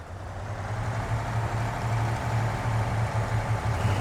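Truck engine in the SnowRunner video game, running steadily at a low, heavy, even drone with no other sounds.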